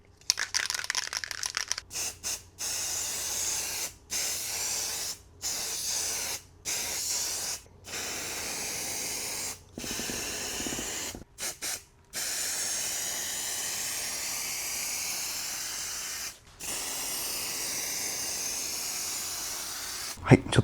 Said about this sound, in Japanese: この100円ショップで購入した油性のラッカースプレー